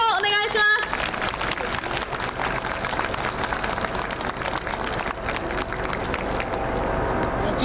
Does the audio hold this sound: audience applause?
yes